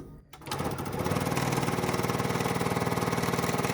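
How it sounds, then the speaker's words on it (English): A sewing machine runs up to speed while stitching quilt block pieces, a rapid, even mechanical chatter after a brief quiet start, close and fairly loud. "now I'm sewing off to the edge just like that"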